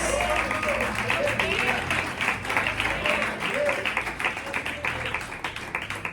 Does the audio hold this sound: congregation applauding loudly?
yes